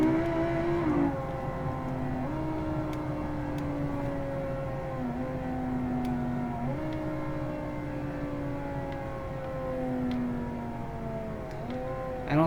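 A car engine with its radiators removed labours uphill, a steady strained drone with pitch rising and dropping in repeated steps like gear changes, loud and continuous with no talk.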